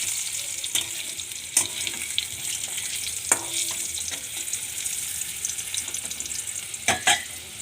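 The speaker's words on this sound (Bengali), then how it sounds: "আলুগুলো ভেজে নিই" Potatoes fry in a pan with a steady sizzle close up, broken now and then by short clicks and scrapes of stirring, and no one speaks.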